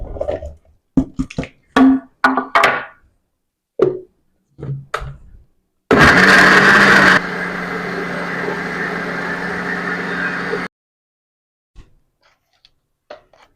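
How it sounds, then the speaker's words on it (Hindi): Electric grinder whirring through green chillies, a loud motor burst that settles into a steady buzzing drone for about five seconds, then cuts off, with scattered clatter and handling knocks before and after. "मिर्चों को हमने ग्राइंड कर लिया"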